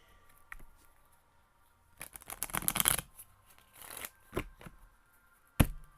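Tarot cards shuffled and pulled, with a dense riffling burst of card flicks, then a few shorter rustles and single sharp snaps of cards laid down, close and isolated with no talk.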